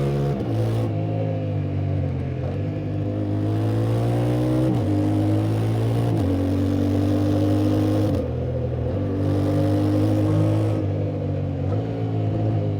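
A 2025 Yamaha Tenere 700 motorcycle engine drones loud and close, rising in pitch through the revs, then dropping sharply at each quick-shifter gear change, several clean clutchless shifts in a row with no talk.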